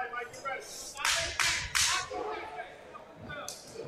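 Heavy punches landing in a boxing fight, three sharp loud smacks in quick succession, with crowd and commentator voices in the background.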